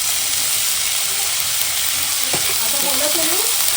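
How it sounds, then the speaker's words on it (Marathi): Garlic and onion tempering fries in hot oil, a loud, dense, continuous sizzle close by, with a brief clatter of stirring partway through. "आपण लसूण कांदा एकत्र करून फोडणी तयार केली आहे ती चांगली तेलात परतून घ्यायची"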